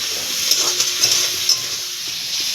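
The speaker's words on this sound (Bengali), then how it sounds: "ভালো করে আলুটা ভেজে নেবো" Potatoes frying with prawns in a pan give off a steady, close sizzle and hiss, broken by a few soft stirring scrapes.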